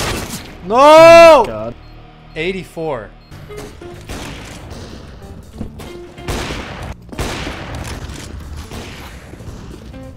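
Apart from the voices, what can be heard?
gunshots in a video game shooter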